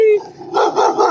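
A dog barks close by in short loud yelps, overlapping with lively group chatter and speech in a casual indoor setting.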